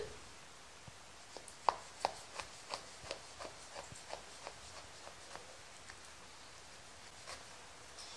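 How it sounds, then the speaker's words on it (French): A knife scores baklava into diamond shapes with a run of crisp, evenly spaced taps and crunches on the pastry, fairly close and clear, with a few softer cuts near the start and end. "je vais couper ma baklava en losange"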